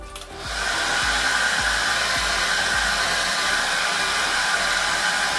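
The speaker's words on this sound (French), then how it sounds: "passe le sèche-cheveux, voilà, ça y est, sur le complément pour rendre la colle transparente." A hair dryer blows loud and close onto the glue of a hair piece, a steady continuous roar running almost the whole time after a brief start.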